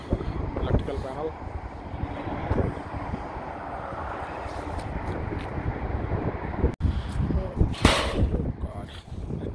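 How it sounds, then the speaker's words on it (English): Strong wind buffets a rooftop 10-ton HVAC unit, roaring steadily in a broad rush with occasional gusts, while someone talks over it. "it's high wind"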